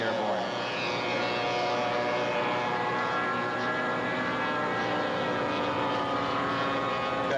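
A T6 race plane at the 1992 Madera Unlimited Air Race in California takes off, its propeller engine a loud, steady roar that holds evenly from start to finish.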